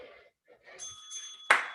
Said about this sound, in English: There's the bell, beautiful.